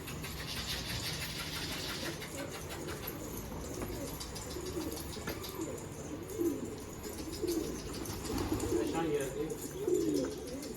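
A flock of pigeons coos softly in repeated low, throaty phrases that grow a little louder toward the end, with faint background engine hum and no clear talking.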